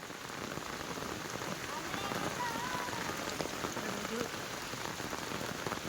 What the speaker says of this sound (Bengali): কি বৃষ্টি, শিল পড়ছে।